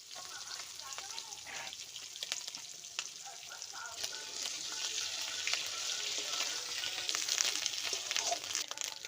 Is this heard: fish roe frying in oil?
yes